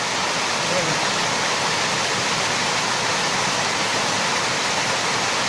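Steady roar of the Tengkorak waterfall, a dense, constant broadband rush of falling water, loud and unbroken with no other sounds standing out.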